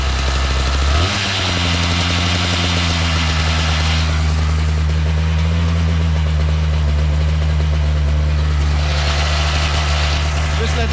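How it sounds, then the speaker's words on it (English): A small cold engine turns over and settles into a steady, slightly rough idle, close and loud throughout, right after start-up for a first flight. "now it's a little bit cold, so the engine is not running as smoothly as it usually do before it gets hot"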